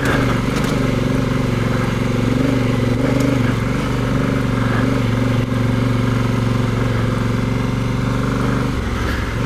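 A Honda Africa Twin motorcycle climbs a dirt bike path. Its engine drones loud and steady at close range with a constant low rumble, and the note drops near the end. No one speaks.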